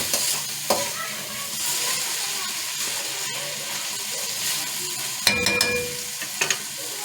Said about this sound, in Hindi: इनको इस कीमे के साथ अच्छी तरह से मिक्स करेंगे और तकरीबन हम 2 से 3 मिनट जो है वो भून लेंगे इसके साथ।